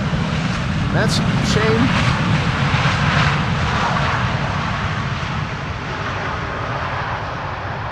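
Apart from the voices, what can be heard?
large airliner landing without idle reverse thrust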